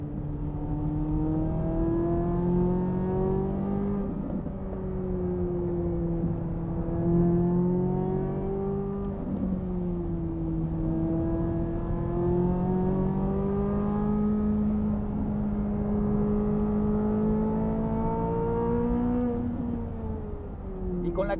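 A 2023 Chevrolet Corvette C8 Z06 is driven hard on a track, its engine note rising and falling through repeated gear changes in a steady, loud, close drone from inside the cabin, with no talk.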